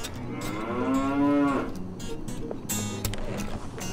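A cow moos once in a long, rising then falling low call, loud and near, followed by softer rustling and a person speaking nearby.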